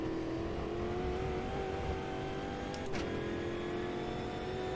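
A steady race car engine in the racing game Automobilista 2 drones at a constant pitch throughout, with a brief higher-pitched whine partway through.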